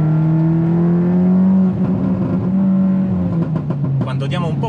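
Tuned Volkswagen Golf 8 R at stage 2 with over 400 horsepower, its engine droning steadily and building as the throttle opens, loud and close, with a rising note toward the end.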